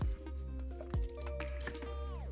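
Gulping and swallowing sounds from someone drinking water, a few wet squishy gulps spaced about a second apart, close to the microphone, with no talking.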